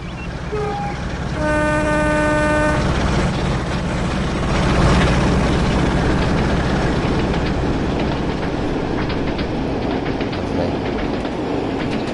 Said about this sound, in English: Hit the horn.